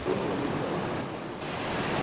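Floodwater of a river in Morocco rushes loudly and steadily, a dense broadband roar that fills the scene with no talking.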